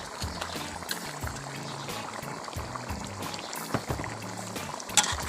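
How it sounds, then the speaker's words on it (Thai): Seasoning is poured into a pot of boiling Thai green chicken curry. A bubbling, splashing wash of liquid carries irregular clinks and knocks, with a louder clack near the end. "เราจะเติมเครื่องปรุงลงไปก่อนนะคะ"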